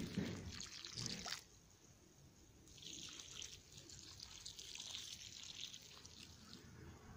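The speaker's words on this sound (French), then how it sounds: "Alors surtout n'hésitez pas à arroser hein, quand vous repiquez." Water splashes and trickles onto freshly transplanted cauliflower in a vegetable garden, a soft steady pour that runs for several seconds with a brief louder gush at the start.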